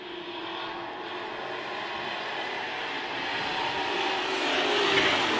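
Midwest modified race cars roar around Amsoil Speedway as a broad, distant wash of engine noise that slowly swells louder as the pack nears.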